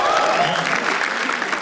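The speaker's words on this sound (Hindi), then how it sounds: "ओंकार यादव के लिए तालियां प्लीज।" Audience applause for comedian Omkar Yadav at a live roast-style comedy show, a dense burst of clapping from the crowd that stays loud and even for the whole stretch.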